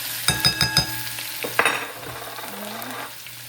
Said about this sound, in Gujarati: આપણું તેલ ગરમ થઈ ગયું. એમાં નાખી દઈશું રાઈ, પછી નાખીશું જીરું, હિંગ,